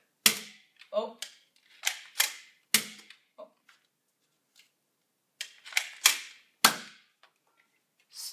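Gunfire from a video game, a series of sharp cracking shots in short clusters with quiet gaps between, fairly close and crisp, no speech over them.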